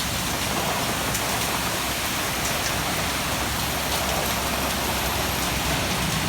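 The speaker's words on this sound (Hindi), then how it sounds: "बारिश बहुत ही तेज़ पड़ रही है।" Heavy rain pours down with the wind in Thailand, a dense, unbroken roar of falling water that stays loud and steady without a break.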